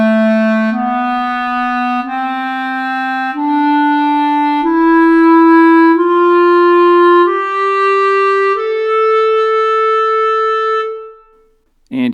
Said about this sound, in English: This is the sound of the A natural minor scale.